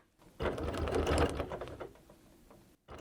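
Sewing machine stitching free-motion quilting around a flower design on a quilt, a loud, steady close-up mechanical whir that runs for about two seconds before cutting off.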